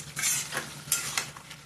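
A vegetable curry of cabbage, cauliflower, beans and potato cooks in hot oil, giving a soft, continuous sizzle broken by repeated scraping stirs of a utensil against the pan.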